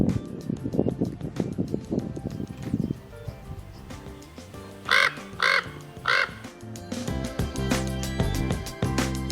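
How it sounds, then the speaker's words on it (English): A common raven at Valles Caldera National Preserve in New Mexico gives three loud, evenly spaced croaking calls midway, with outdoor rustle and other faint bird sounds around them. "Common raven calling."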